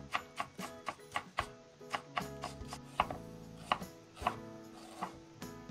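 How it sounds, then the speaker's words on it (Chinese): A knife chops a length of scallion into fine shreds on a board, a quick, uneven run of crisp close-up taps about two to three per second. "准备一段大葱，切成葱丝"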